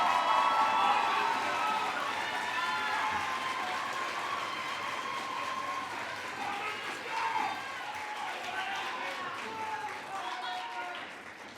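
An audience at a youth awards ceremony applauds in a sustained wash of clapping with some cheering, loudest at first and slowly fading, while a voice carries over it.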